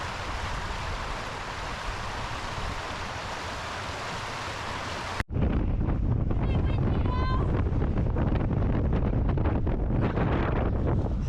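Wind buffeting the microphone on a Scottish ridge during a climb, a steady roaring rush that then turns harsher and gustier with loud low rumbling after a sudden break.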